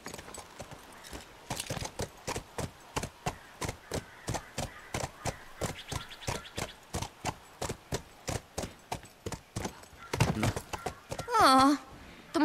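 Horse hooves clip-clop steadily on a hard surface in The Last of Us, a regular close rhythm of sharp knocks running throughout, with a brief whinny near the end and voices talking over it.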